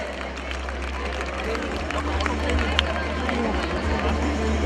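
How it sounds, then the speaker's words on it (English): Crowd applause from the audience at a school annual day celebration, a steady wash of clapping and chatter that holds level throughout, with no clear voice above it. "Let's clap louder for these proud parents."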